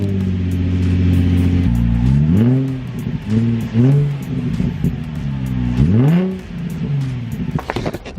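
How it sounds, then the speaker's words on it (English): A Nissan 350Z engine is fired up with its muffler removed, rumbling loud and close for several seconds, then blipped through a few rising revs that fall back to a raw, uneven idle. "I just pulled off the muffler and I'm kind of curious what it sounds like"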